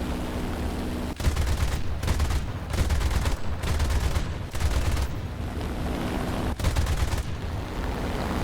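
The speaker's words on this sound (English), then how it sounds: "anti-aircraft, which is now opening up on me" Bursts of anti-aircraft gunfire in a War Thunder air battle, several sustained loud rapid volleys separated by short pauses, heard over a constant engine drone of a Japanese BF-109 E-7 fighter.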